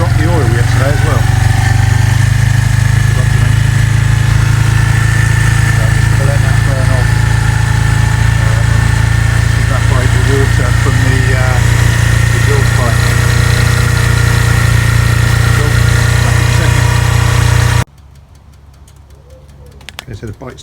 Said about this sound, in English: Okay, so the bike's ticking away.